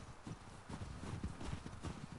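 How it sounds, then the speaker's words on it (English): Horse hooves clip-clop in The Last of Us Part 2, a steady, fairly quiet walking rhythm of distinct hoof strikes heard alone, without talking. "Can't they name their horses like just something Shimmer?"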